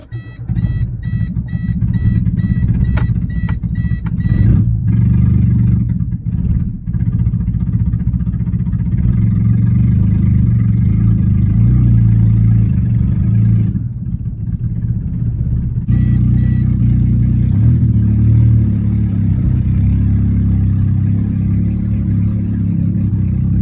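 A Geo Metro engine roars loudly and steadily up close, revving hard with a couple of brief dips before surging back to full noise.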